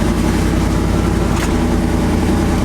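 Car engine fitted with an Edelbrock AVS2 carburetor runs steadily while driving, a loud, continuous low rumble with a brief whooshing swell midway.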